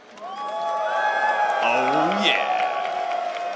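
Crowd at an Evo fighting-game tournament watch party cheering and whooping for the top four players, swelling loudly with shouts and excited voices layered together.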